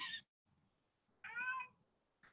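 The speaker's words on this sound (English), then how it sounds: "my cat's yelling at me" A cat meowing loudly and insistently, one short cry, a pause, then a longer drawn-out whiny yowl and a brief final chirp, close by with no talk.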